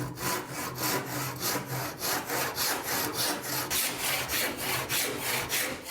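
A hand saw cuts through wood in steady, rhythmic back-and-forth strokes, the rasping close and loud and continuing on its own with no talk.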